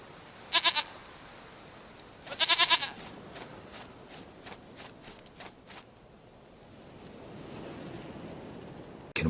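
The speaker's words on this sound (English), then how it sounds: "Goat of mine! Dearest, sweetest goat!" A goat in The Witcher game bleats in two short wavering bursts, followed by lighter rhythmic footstep-like taps and a soft rising ambient wash, with no talk over it.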